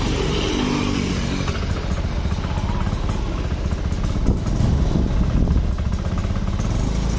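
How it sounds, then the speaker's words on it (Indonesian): A Honda motorcycle engine held at steady throttle around 2000 rpm misfires, chugging loudly and continuously with an uneven, stumbling beat, while someone talks over it. "Kedenger nggak suara mesinnya?"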